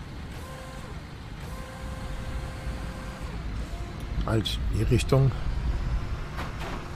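A truck in a construction simulator game, its engine rumbling with air brake hisses and a run of reversing beeps building toward the end, while someone talks over it.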